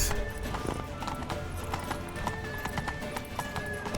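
Horse hooves gallop in The Witcher 3 video game, a steady rapid clip-clop with a brief whinny, set against continuous game ambience.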